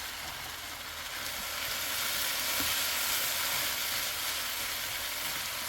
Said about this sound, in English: you want that sizzle to be happening